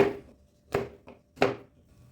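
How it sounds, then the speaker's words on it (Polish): Three sharp knife chops through chocolate on a cutting board, close and distinct with brief pauses between, plus a faint tap. "Czekoladę kroimy, aby nam się łatwiej ją rozpuszczało."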